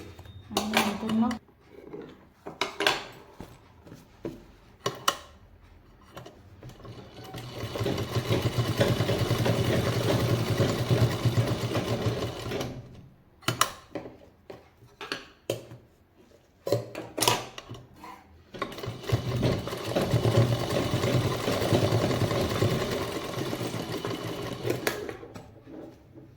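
A sewing machine runs in two long steady bursts of stitching, double-stitching a double-zip purse, separated by short clicks and handling noises, with a voice briefly in between.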